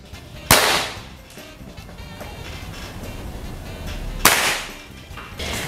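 Air rifle shots fired at targets during a shooting competition, two sharp loud cracks about four seconds apart over a murmuring outdoor background.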